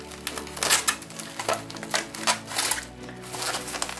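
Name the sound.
packing tape being pulled and applied to Lego set wrapping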